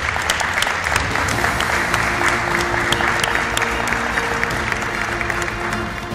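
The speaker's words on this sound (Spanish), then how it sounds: "aplauso para ella, gracias." Studio audience applause for a departing participant on a Spanish-language television programme, steady continuous clapping at an even level for the whole stretch with no voices standing out.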